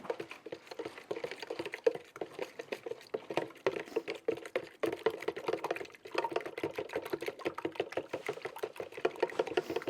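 A whisk beats a homemade fishing bait mix in a bowl with rapid, even strokes, a quick, steady ticking patter that carries on close and fairly quiet throughout.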